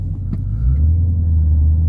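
The engine of a Dodge Hellcat Widebody heard from inside while driving: a deep, steady, loud low rumble that swells slightly, with no talking.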